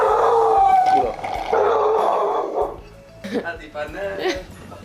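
A pet dog at home barks and yips a few times, close, mixed with whimpering, under people talking.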